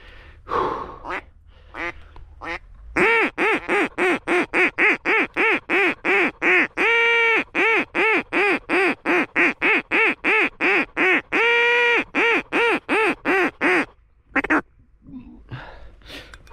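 Wild ducks quack in a long run of loud, rhythmic calls during a duck hunt in western Georgia, with a few scattered calls before and after the main burst.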